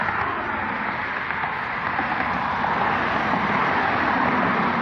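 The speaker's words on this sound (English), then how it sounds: "You can't hardly hear nothing but the cars" Steady roadway traffic near a Carrollton, Texas street, a continuous broadband rush of cars passing without pause, moderately loud throughout with no clear talk above it.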